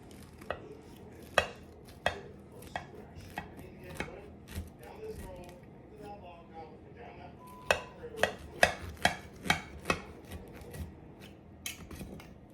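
A knife cutting into a cooled cake, heard as scattered close sharp taps and scrapes against a plate or board, with irregular clusters of clicks and quiet gaps between them.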